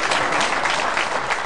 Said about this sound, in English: How about a big round of applause, everybody, for Stephen Kapton.